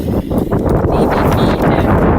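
Gusty outdoor wind buffets the microphone, producing a continuous loud low rumble that stays steady for the whole stretch.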